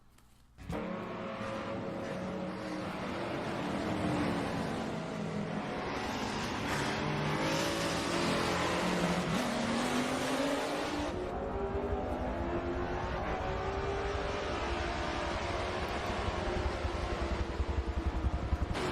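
Race cars in an IMSA sim racing game, Corvettes among them, roar under green-flag racing, a dense continuous engine drone with shifting revs and passing cars throughout, loud and sustained from start to end.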